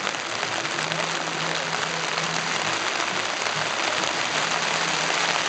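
Steady, dense hiss of rain falling on a surface at a riding stable, constant and fairly close, with no voices over it.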